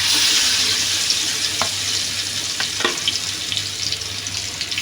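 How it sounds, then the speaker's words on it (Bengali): Koi fish frying in hot mustard oil gives a loud, continuous sizzle. Occasional crackles and light scrapes break through, and the sizzle eases slightly over the seconds. "আমি মাছ দিয়ে দিব।"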